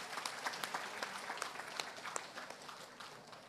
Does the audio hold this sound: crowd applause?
yes